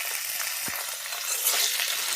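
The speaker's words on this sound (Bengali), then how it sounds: "5 ফোড়ন আর শুকনো লঙ্কা ফোড়ন দিয়ে আলুটা ভেজে নিচ্ছি।" Potato pieces fry in hot oil with five-spice and dried red chilli, giving a bright, even sizzling hiss up close, with faint stirring and no talk.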